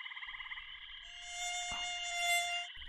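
A small housefly buzzes with a thin, steady, high-pitched whine that holds evenly for a few seconds in a quiet natural setting, with faint low sounds underneath.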